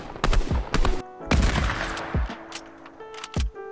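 A burst weapon in the Fortnite video game fires sharp two-round bursts, several quick pairs of loud cracks with short gaps between them, standing out clearly from a quiet background.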